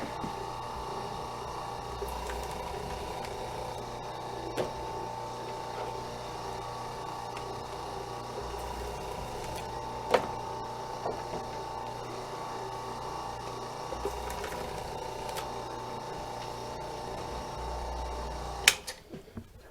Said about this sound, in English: Alright, so we're going to try to strip some of this wire here.